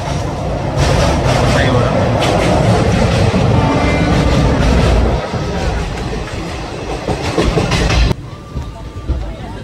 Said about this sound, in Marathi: फायनली आम्ही आता ट्रेन पकडले.